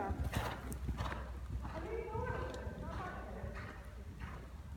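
Horse cantering in an arena, hooves clip-clopping in a steady rhythm under a coach's spoken instructions, with a brief whinny-like sound midway, moderately close.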